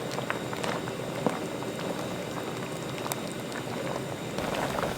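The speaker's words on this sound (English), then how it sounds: "Stir this well and continue to cook on medium heat." Rose tteokbokki sauce with noodles simmering in a pot over medium heat, a steady close bubbling and popping that continues evenly throughout.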